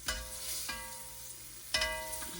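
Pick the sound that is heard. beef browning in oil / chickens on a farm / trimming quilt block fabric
beef browning in oil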